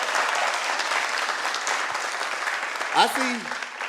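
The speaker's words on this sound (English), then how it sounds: "Give yourselves a round of applause for being in here tonight." Comedy club audience applauding in a steady, dense wash of clapping that fills the room, with a voice briefly speaking over it near the end as it fades.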